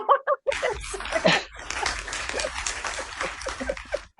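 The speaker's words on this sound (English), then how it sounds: "You got a round of applause." A small studio group gives a round of applause to welcome a podcast guest. Short claps open the clip, then a dense, steady burst of clapping carries on for several seconds.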